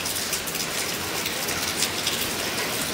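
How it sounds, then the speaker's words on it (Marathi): Heavy rain pouring down in Dharashiv district, a dense, constant hiss of drops beating on surfaces, loud and even throughout with no voices. "आधीच बेहाल असलेल्या धाराशिवला पुन्हा एकदा पावसानं झोडपून काढले।"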